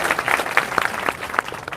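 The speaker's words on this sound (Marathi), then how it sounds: "आपण वाजे साहेबांचं एकदा आपण टाळ्या वाजून अभिनंदन करावं" Crowd applause honoring Vaje saheb, the Nashik MP, at a public gathering, a short burst of scattered, fairly close hand claps with uneven rhythm.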